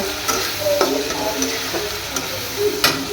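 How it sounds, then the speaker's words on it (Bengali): Shrimp and vegetables fry in a pan, a close, steady sizzle broken by repeated scraping clinks as the mixture is stirred. "তো হলো চিংড়ি মাছ দিয়ে ঝুমঝুল দিয়ে রান্না করব"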